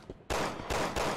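Gunshots from Resident Evil 6, a video game: a faint early pop, then three loud, close shots in quick succession, each blast ringing into the next, with no talk.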